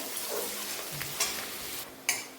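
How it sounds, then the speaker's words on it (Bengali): Chopped onion frying in a pan makes a short, soft, steady sizzle with a couple of scrapes and a sharp utensil knock near the end; no one talks. "এই পেঁয়াজটাও আমি এর মধ্যে একটু ভেজে নেব।"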